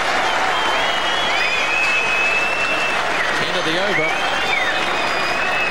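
A cricket crowd at the Basin Reserve applauds a batsman's one-day fifty, a steady loud wash of clapping with a few whistles and cheers, while a commentator speaks briefly over it.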